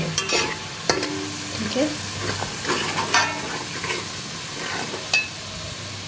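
Onions frying in a pan for chicken nihari, a steady close sizzle with scraping stir strokes throughout and a brief spoken word near the start.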